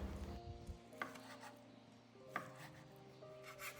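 Knife cutting bacon on a board, soft rubbing slices punctuated by a few distinct knocks of the blade hitting wood, quiet and close with faint tonal background hum and no talk.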